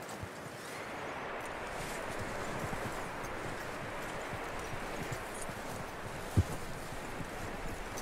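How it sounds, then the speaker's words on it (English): Horse hooves in Red Dead Redemption 2 clip-clop at a steady walking pace over a dense outdoor background, faint and continuous, with one sharp knock partway through. "That looks like a decent horse."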